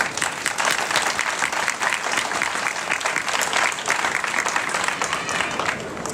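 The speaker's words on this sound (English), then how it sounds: "Let's give them a round of applause" A crowd gathered at a march for humanity and genocide prevention breaks into a sustained round of applause for the organizers, thick and even clapping that holds steady for several seconds.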